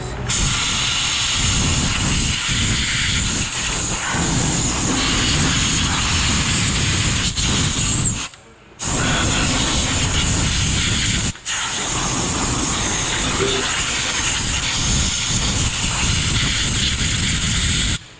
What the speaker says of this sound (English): A little bit of compressed air will make light work of the rest of this debris, so stand by for loud noises.